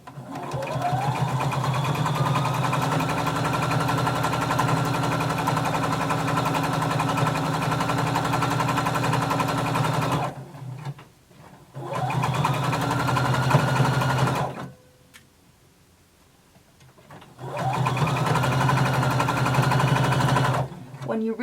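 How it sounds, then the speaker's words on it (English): A sewing machine runs in long steady bursts while stitching the side seam of a Simplicity 1283 garment at a 5/8-inch seam allowance, with two brief pauses between runs; a quiet voice speaks faintly underneath. "starting at the bottom, we're going to sew up the side seam"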